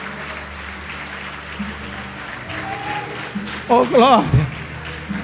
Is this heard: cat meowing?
no